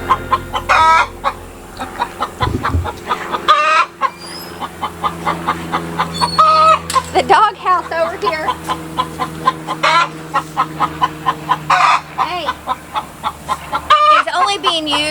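Several chickens cluck steadily and close in a backyard livestock shelter, with busy overlapping bursts and an occasional louder squawk, while a person talks quietly nearby.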